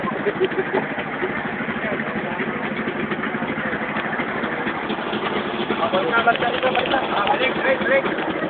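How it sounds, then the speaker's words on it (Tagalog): A loud engine runs steadily on a family outing, a constant close mechanical drone with people talking over it throughout. "Ang lakas na makina! Sobrang lakas!"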